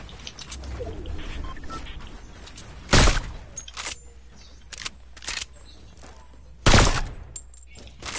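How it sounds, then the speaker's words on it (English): Video game gunfire aimed at a supply drop: two loud, sharp bursts stand out among shorter, quieter shots over a low background hum. "I'm shooting at the supply drop"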